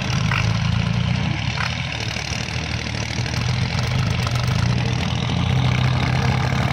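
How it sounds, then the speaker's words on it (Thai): A Kubota 47 hp tractor engine idles steadily with a loud, knocking diesel exhaust, close and continuous with no talking. "มาดูคัน47แรงนะครับ ลั่นทุ่งเป็นท่อลั่นทุ่งเลยนะครับ"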